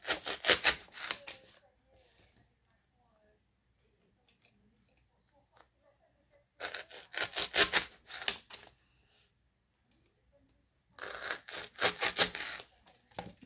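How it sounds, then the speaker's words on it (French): Sharp blade slicing through material in three short bursts of crisp cutting strokes, each about two seconds long, separated by quiet pauses. "Il n'y a pas besoin de forcer sur la lame, ça se coupe tout seul."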